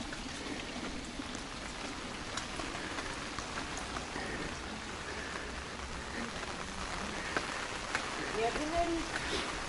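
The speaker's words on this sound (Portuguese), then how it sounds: "Este dia de chuva, tem que ser com o guarda-chuva." Rain falling in Braga, Portugal, a steady soft hiss of drops on surfaces throughout, fairly faint, with a person's voice intermittently present.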